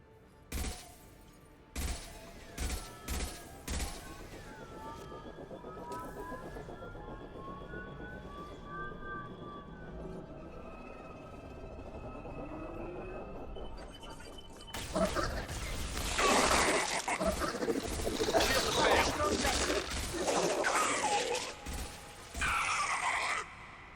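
Gunfire in the video game Mass Effect Legendary Edition as a squad shoots at injection tubes: sharp bursts of shots open the scene, then after a quieter stretch a dense, loud barrage of fire with alarm-like tones underneath.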